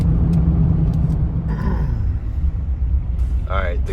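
An old high-mileage car with 185,000 miles drives along, a steady low engine and road rumble heard from inside the cabin, with someone talking over it.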